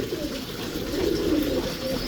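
A Faisalabadi pigeon coos close by in low, rolling throaty calls, repeating steadily over faint background noise.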